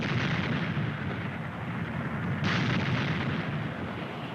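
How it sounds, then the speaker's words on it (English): A deep, sustained roaring blast from a volcanic eruption, heavy low rumble throughout with a sharper surge midway, no voices. "Krakatoa erupted with an explosion considerably larger than this one recorded in 1927."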